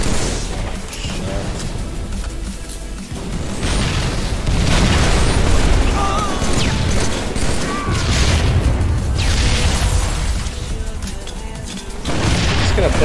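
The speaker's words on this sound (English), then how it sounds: "Dude, he's relentless with those rockets." Rocket explosions in a video game, heavy repeated booms and rumbling blasts layered over continuous battle noise, loud and close, with bursts swelling and fading.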